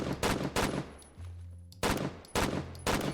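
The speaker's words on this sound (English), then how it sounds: "it's literally one of the most epic sounding gun sounds of all time now" SCAR rifle fire in the Roblox game Phantom Forces: four loud, punchy bursts of rapid shots separated by short pauses, with a low mechanical hum and faint clicks between them.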